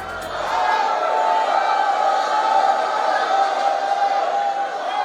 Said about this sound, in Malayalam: ആർപ്പുവിളികളും ആരവങ്ങളുമായി തൃശൂർ അങ്ങനെ ഒരു പൂരക്കാലത്തെ കൂടി വരവേറ്റു